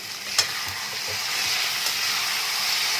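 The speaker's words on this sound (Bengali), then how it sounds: "এবার যে চিকেনটা আমি ম্যারিনেট করে রেখেছিলাম আম কাসুন্দি হলুদ নুন দিয়ে, সেটা এখন পুরোটা দিয়ে দিচ্ছি" Chicken marinated in mango kasundi, turmeric and salt goes into a hot pan and fries with a bright, steady hiss. A brief clink sounds at the start, with faint scrapes of a utensil beneath. No one speaks.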